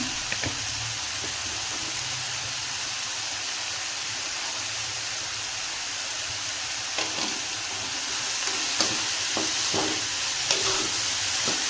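Sprouted legumes with a pinch of turmeric fry on low gas in a pan, giving a steady, close hiss of sizzling with occasional sharp pops and stirring clicks, no voices.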